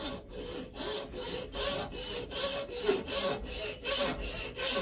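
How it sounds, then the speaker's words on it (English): A hacksaw cuts through a wooden ramrod in steady back-and-forth strokes, about two per second, close and rasping, with no talk. "cut it off with a hacksaw"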